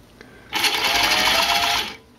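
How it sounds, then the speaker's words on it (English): A belt-driven sewing machine stitching binding on a racerback tank top runs in one steady burst of about a second and a half, a close, loud whirring hum that starts and stops abruptly with quiet on either side. "you can hear the machine sounds a little, I guess it's the belt that makes it sound like that"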